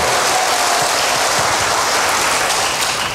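Loud, dense applause from a church congregation, sustained clapping at full strength without a break.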